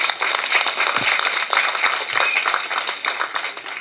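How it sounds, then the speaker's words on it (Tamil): Loud, close audience clapping at a Tamil film-world speech by veteran director SP Muthuraman, dense overlapping claps running continuously with a couple of low thumps and no talk. "கைதட்டு சத்தத்தையே காணுங்க."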